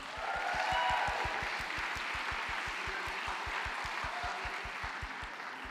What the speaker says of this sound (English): can you please give yourselves a big round of applause?